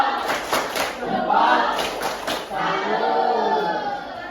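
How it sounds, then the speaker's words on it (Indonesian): Rhythmic group clapping in a patterned routine, a burst of quick claps followed by held vocal tones, with children's voices chanting along, in a classroom. "Kita kasih tepuk salut dulu buat Mbak Salwa."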